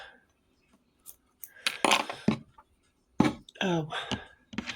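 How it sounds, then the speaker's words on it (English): Scissors snip excess yarn off a crocheted pumpkin wreath, giving a few short, close metallic clicks and cuts between quieter pauses, with a voice speaking briefly. "I'm going to cut this excess off."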